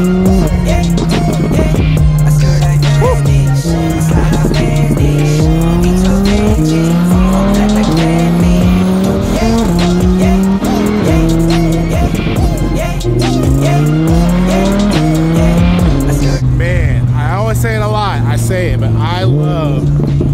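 A Ferrari Enzo sports car drives by loud and close, its engine note sweeping up and down through gear changes while tires squeal, with people talking over it throughout.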